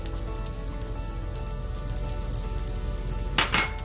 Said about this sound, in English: We're going to brown the onions